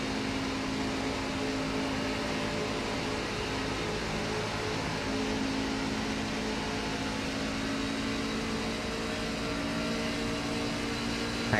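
Steady onboard engine drone of a NASCAR-style truck at Texas Motor Speedway in a racing video game, a continuous even hum and whine holding throughout with no talk.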